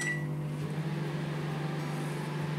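A steady, low microwave oven hum drones on without pause while melting chocolate, with a faint electrical buzz layered over it and no voices.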